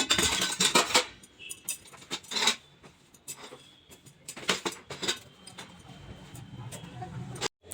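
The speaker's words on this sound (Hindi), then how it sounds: "सारा बर्तन को हम रख देते हैं टोकरी में और चम्मच उम्मच रख देते हैं साइड में" Washed steel dishes and spoons set into a basket in a home kitchen, a series of sharp metallic clinks and clatters with quiet pauses between, fairly close.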